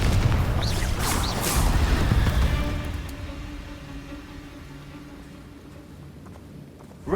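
A loud blast from the Confringo fire spell in Hogwarts Legacy, one heavy burst that booms for a couple of seconds before decaying into a fading rumble with quieter ambience.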